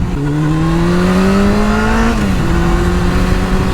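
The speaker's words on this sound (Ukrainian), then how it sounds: "Мотоцикл їде чудово." Honda CBR600 F4i motorcycle engine running on a village road, a loud close inline-four whine rising steadily in pitch, then dropping briefly as it shifts before holding steady again.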